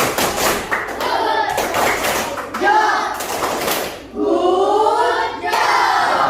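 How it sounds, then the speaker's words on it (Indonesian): A classroom of children claps a rhythmic 'tepuk' chant during a school lesson. Bursts of hand claps alternate with children's voices chanting together, loud and near, in short repeated phrases. "Kita tepuk gucap dulu. Tepuk gucap."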